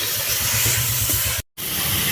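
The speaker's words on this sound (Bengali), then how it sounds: "তো আদা রসুনটা ভালো করে ভেজে নেব" Ginger-garlic paste fries in hot oil in a pan with a steady, loud hiss and spray, broken by a brief moment of silence partway through before the sizzle resumes.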